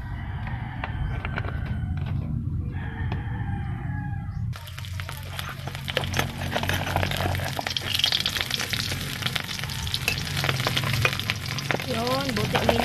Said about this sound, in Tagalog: Prito tayo ng sap-sap.